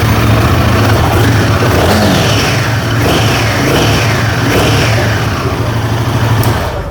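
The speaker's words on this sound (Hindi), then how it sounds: "एक बार ज़रा इस मोटरसाइकिल को हम लोग करते हैं स्टार्ट" A Royal Enfield motorcycle engine roars close and loud, rising and falling through several throttle blips over a steady low thump, with no voices over it.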